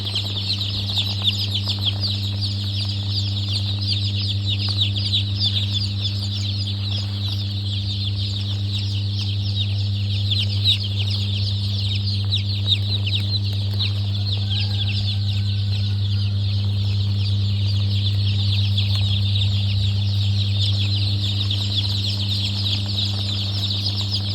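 Steady high cheeping from a crowd of Rainbow Rooster chicks fills the space, with occasional wing flutters over a persistent low electrical hum and no talking.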